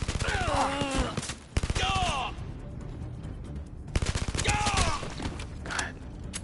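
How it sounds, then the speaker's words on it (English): Rapid bursts of automatic gunfire in the VR shooter game Blood & Truth, loud and close, in several sustained volleys separated by brief pauses, with voices and groans from the game in between. "I do like shooting in this game."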